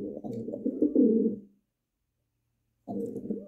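Racing pigeons coo in low, throaty bursts close by, a dense stretch of cooing that fades into a pause before the calls resume.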